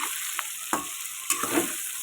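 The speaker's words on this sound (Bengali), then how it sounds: "এবার পেঁয়াজটা দিয়ে দিয়েছি পেঁয়াজটা ভাজা হয়ে যাবে" Chopped onion sizzles steadily in hot oil alongside ginger and red chilli, with a few sharp stirring scrapes cutting through the continuous frying hiss; no one speaks.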